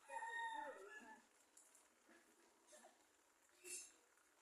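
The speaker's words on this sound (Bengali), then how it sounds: "এমন বাড়িতে মরগ থাকলে বাড়ির একটা সৌন্দর্যই আলাদা।" A heavy pet rooster crows once at the start, a faint drawn-out call heard from some distance, followed by a few quieter scattered sounds.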